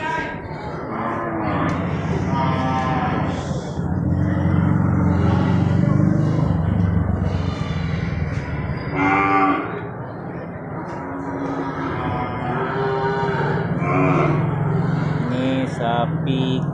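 Crossbred cattle moo repeatedly at a livestock market in Bireuen, several long low calls overlapping from nearby, over a rumbling background with some indistinct voices.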